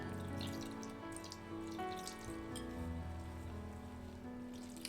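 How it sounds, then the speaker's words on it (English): Water is added to rava uttapam batter of semolina and yogurt in a home kitchen, a steady soft trickle lasting several seconds, fairly quiet against a faint background hum. "So here I'll start adding water."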